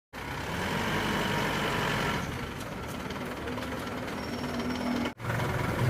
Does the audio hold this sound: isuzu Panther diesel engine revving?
yes